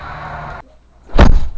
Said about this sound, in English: And Chris slammed the door, but then turned around to see Nick once more.